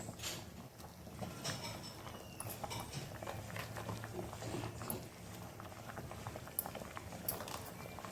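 Marathi amti, a lentil curry with tomatoes and spices, boiling in a pot with dense, steady bubbling and popping, close and soft, no talking.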